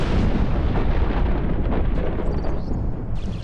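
Explosion in the god game Black & White, a dense broadband rumbling blast that stays loud and roiling for several seconds before thinning slightly toward the end.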